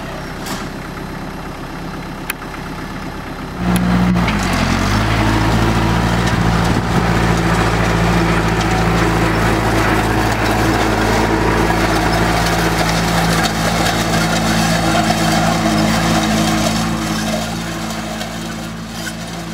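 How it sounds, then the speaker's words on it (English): A tractor pulling a seed drill starts up with a sudden loud, low engine rumble, then drives steadily and close by with a constant heavy drone and some rattling. "I just drove 100 feet"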